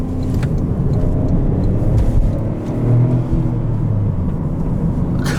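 A 2023 Toyota GR Corolla engine pulls hard under acceleration, a loud, steady low rumble with rising drive and road noise filling the whole stretch, heard from inside the cabin.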